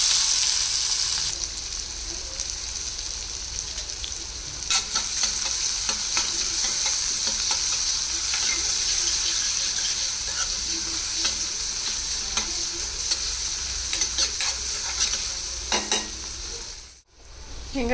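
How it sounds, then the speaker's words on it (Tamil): Onion sautés in a pan for masala, giving a continuous close sizzle with frequent stirring scrapes and clinks, then a brief pause near the end. "வெங்காயம் லைட்டாக வதங்கினதும் நம்ம கட் பண்ணி வச்சுருந்த கேப்சிகம்மை சேர்த்துக்கலாம்."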